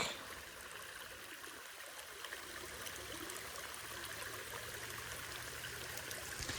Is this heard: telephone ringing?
no